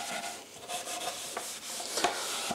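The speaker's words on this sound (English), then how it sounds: "apply some oil to the steel wool and start rubbing" Oiled fine steel wool rubbed over a wood finish makes soft, quiet scratchy strokes in an uneven back-and-forth rhythm, close and alone.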